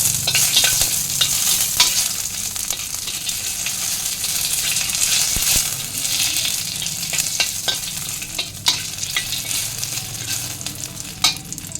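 Dried red chillies and bay leaves crackle and sizzle in hot oil in a wok, with a steady loud fizz, scattered sharp pops and occasional stirring scrapes, no voices.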